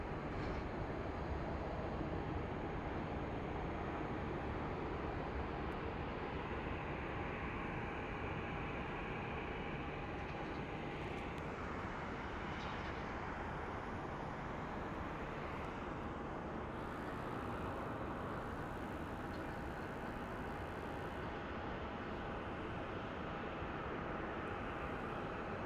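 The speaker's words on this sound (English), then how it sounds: "let's go take a look at that plane that's departing to Colorado Springs" Southwest Boeing 737 jet departing Phoenix Sky Harbor airport, a steady, distant broadband roar of jet engines holding at a constant low level throughout.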